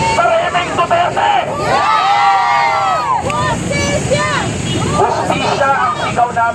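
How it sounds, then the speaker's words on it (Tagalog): A rally crowd outside the Senate shouts and cheers for justice in loud, sustained chanting and overlapping raised voices, with wind buffeting the microphone. "Hustisya ang sigaw namin dito."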